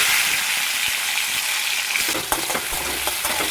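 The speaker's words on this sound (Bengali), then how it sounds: "কড়াইতে দিয়েছি একটা শুকনো লঙ্কা আর তেজপাতা ফোড়ন এর মধ্যে আমি একটু টমেটো দিই" Tomato fries in a wok with a dried red chilli and bay leaf, giving a close, steady sizzle throughout, broken by light scraping and stirring clicks toward the end, with no talking.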